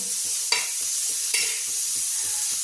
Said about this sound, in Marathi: आता मिरच्या भाजून घेते